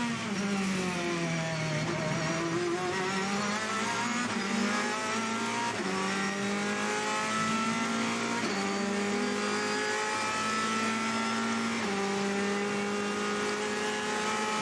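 Onboard engine of the No. 51 Ferrari GT race car at the 2014 24 Hours of Le Mans, droning loud and steady at high revs with repeated stepped pitch drops as it downshifts, alone without talk.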